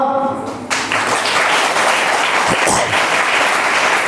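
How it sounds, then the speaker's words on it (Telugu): A congregation at a church sermon bursts into sustained applause, dense clapping filling the room loudly after a brief moment of speech at the start. "చప్పట్లు కొడదామా?"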